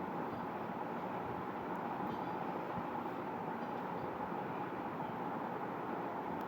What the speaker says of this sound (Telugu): ఇప్పుడు సూలూరుపేటకు వచ్చిందండి ట్రైను గూడూరు నుంచి.